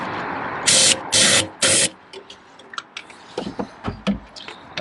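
Aerosol spray into the engine of a Land Rover Freelander 2 with failed glow plugs and cold starting trouble, three loud close hissing bursts followed by clicks and handling knocks.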